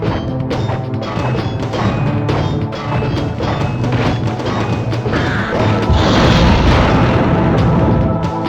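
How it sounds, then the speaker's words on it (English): Deep booming explosions rumble repeatedly in the background of a Gauntlet Legends level on the N64, dull thuds layered over game music, growing denser and louder toward the end. "I was kind of hoping to hear more explosions in the background"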